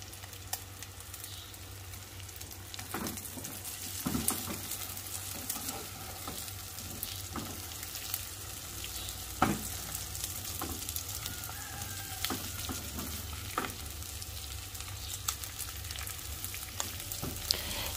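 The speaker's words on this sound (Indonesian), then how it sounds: "Kita aduk-aduk terus ya pemirsa, supaya lebih merata." Oil sizzles and crackles in a pan as pieces of fried chicken liver are stirred for sambal goreng, with occasional scraping clicks of a utensil, no voices.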